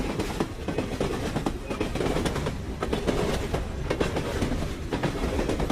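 A passenger train running on rails in the evening, a steady rumble with rhythmic clickety-clack of wheels over the track joints, heard close and continuous throughout with no speech.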